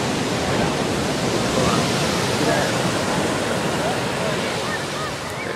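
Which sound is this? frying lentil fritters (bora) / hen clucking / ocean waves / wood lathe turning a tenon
ocean waves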